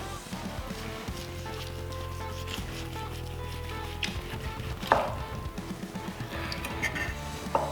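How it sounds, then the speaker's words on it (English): A knife slices into a bone-in prime rib roasted to medium rare, giving quiet, soft cutting sounds and a few muffled thumps against a board, close and fairly faint. "now we'll cut in to see if we got that perfect medium rare"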